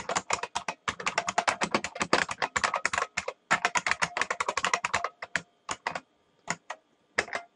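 Rapid clicking of keys on a computer keyboard, close and crisp, in quick bursts with short pauses that thin out toward the end, no talk.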